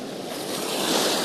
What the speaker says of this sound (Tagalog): Meron pang alon.